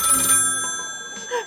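Telephone ringing in a video game, a sustained shrill electronic bell tone that fades somewhat over the short stretch, with faint background sounds underneath.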